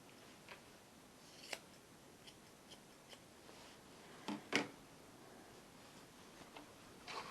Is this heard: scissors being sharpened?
yes